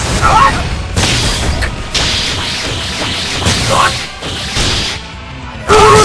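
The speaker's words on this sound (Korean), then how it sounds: "마력 폭발." Magic power explosion in a fighting video game, heard as a run of loud booming blasts and whooshing bursts in repeated surges, with brief crashing impacts and no voices.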